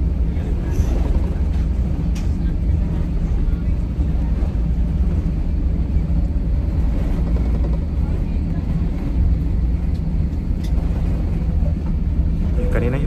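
Steady loud roar of a passenger airplane taking off from Istanbul bound for Manila, heard from inside the cabin as a constant low rumble with no breaks.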